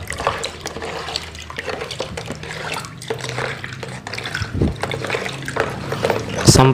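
A liquid pesticide mixture for chili plants is stirred in a container, giving irregular close sloshing and splashing sounds that continue throughout.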